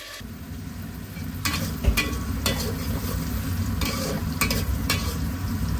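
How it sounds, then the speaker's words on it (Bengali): Chicken pieces fry lightly in hot oil in a frying pan, a steady close sizzle with stirring and scraping bursts throughout. "ফ্রাই প্যানে আমি তেলটা দিয়ে একটু গরম করে নেব, তারপর মাংসটা আমি হালকাভাবে ভেজে নেব"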